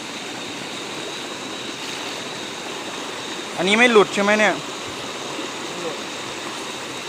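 A mountain stream runs as a steady, broad wash of flowing water throughout, with a brief burst of talk in the middle over the constant rush.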